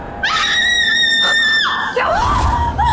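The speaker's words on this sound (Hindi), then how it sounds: "क्यों चिल्ला रही है?" A woman screams loudly and shrilly in a haunted village horror drama, a sustained piercing cry of about two seconds followed by a shorter wavering scream.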